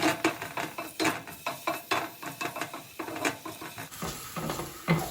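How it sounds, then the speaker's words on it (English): Onion turned in a cast iron pan on a stove top, a close run of quick, irregular scraping and tapping strokes from a utensil, with a steady hiss joining near the end; no talking. "You don't want to let the onion burn, so you keep turning it as it sits on the stove top."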